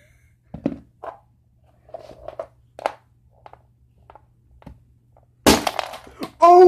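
A plastic pen snaps apart near the end, a sudden loud crack and crunch followed by a second burst of breaking noise, after several faint handling clicks and taps.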